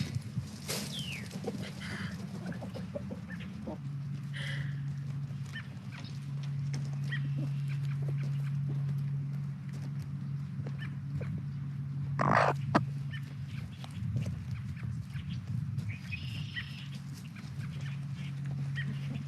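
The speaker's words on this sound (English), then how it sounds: "This is way more chickens than we actually need just for our consumption." Chickens in a backyard run cluck and murmur steadily at close range, with a sustained low hum underneath and one brief louder squawk partway through, and no one talking.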